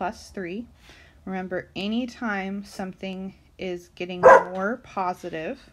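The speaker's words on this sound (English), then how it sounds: "apologize for my dog barking." A pet dog barks a few times in the background, sharp and moderately loud, while a person keeps talking through a chemistry lesson.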